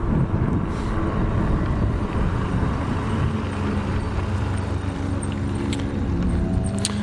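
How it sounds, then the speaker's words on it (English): AddMotoR MOTAN M-66 R7 e-bike with its wheel hub motor running while riding, a steady close motor hum under broadband wind and road rush, with a few faint high ticks near the end. "I'm gonna put the camera back down there by the motor just so you can give that a listen and see how loud that sounds for you."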